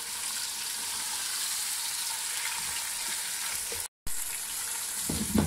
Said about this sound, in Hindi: साथ एक साबुत मिर्च है वो भी ऐड कर दूंगा मैं और इसको अच्छे से मिक्स करूंगा